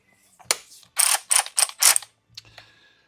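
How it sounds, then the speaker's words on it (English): Power wrench spinning out compensator bolts on a 2024 Harley CVO ST 121, a close ratcheting whir in several short bursts with brief pauses between. "then we'll spin them out with our handy dandy power wrench here"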